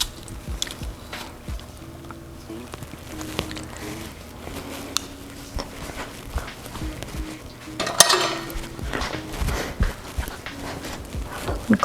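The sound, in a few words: mixing crushed garlic into olive oil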